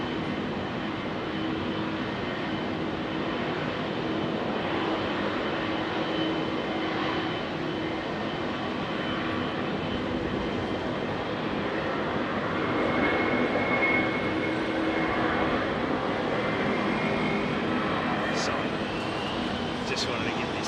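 A jet airliner roaring on takeoff from runway 27R at London Heathrow, a loud, steady, broadband engine rumble close by that swells slightly midway, with a spectator's voice faintly under it.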